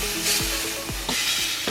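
Pork tenderloin pieces sizzle steadily in a hot pan while being browned, a dense close frying hiss with a few soft scrapes of turning the meat.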